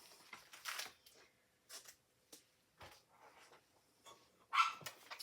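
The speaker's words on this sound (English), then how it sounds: "My puppy's talking in the background." A puppy barks and yips in the background in short, scattered bursts with quiet gaps between them, fairly faint and distant, with one louder bark near the end.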